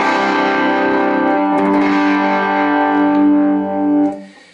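Electric guitar on the bridge pickup through a Vox AC4TV amp, a held, slightly distorted chord ringing for several seconds before fading, with no talking.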